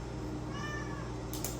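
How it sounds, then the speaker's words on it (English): A pet cat gives one short, rising meow in the middle of a quiet indoor room with a steady low hum, followed by a brief soft rustle. "This is my cat, Gypsy."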